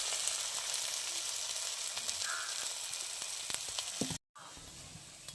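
Round pumpkin fritters frying in hot oil, a soft continuous sizzle at moderate distance with a few faint clatters and a brief silent gap near the end.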